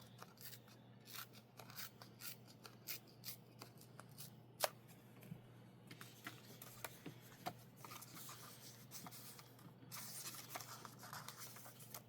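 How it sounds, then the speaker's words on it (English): Paper being torn by hand for a journal, a series of short scratchy rips and rustles at close range over a steady low hum, with no talking. "I'm going to start tearing this because I want it a little bit more narrow."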